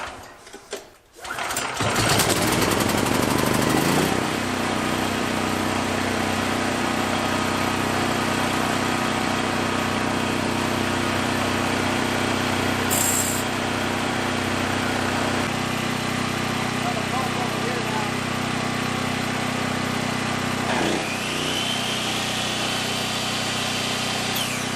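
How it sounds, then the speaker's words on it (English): A Westinghouse portable generator pull-started on choke sputters and catches after a few tugs, then settles into a steady, loud, buzzing run close by, with a couple of brief clicks along the way. "I'm going to manually set the choke and pull it over a couple times"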